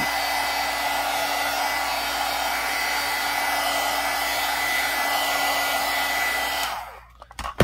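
A heat tool blows steadily and loudly while drying mixed media junk journal pages, a constant whirring hiss that runs unbroken for several seconds before cutting off abruptly near the end.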